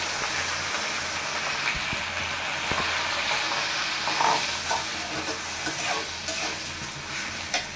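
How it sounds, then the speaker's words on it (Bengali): Lentils dropped into a pan of fried onions and dried chillies sizzle and hiss steadily, with stirring scrapes throughout and no talk. "এখন আমি এই যে ডালগুলো দিয়ে দিব।"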